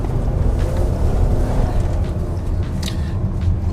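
A 2020 Chevy Blazer with a front-wheel-drive V6 accelerates with a steady low engine drone under rushing wind and road noise, heard from inside the cabin, with no talk.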